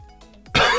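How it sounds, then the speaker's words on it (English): A single sharp cough bursts out close to the microphone after a moment of quiet, a sick person's harsh winter cough. "A bit of a cough going."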